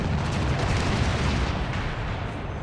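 Mortar turret firing in the strategy game Divinity: Dragon Commander: a dense, continuous rumble of artillery blasts and explosions, loud and sustained throughout with no clear gaps.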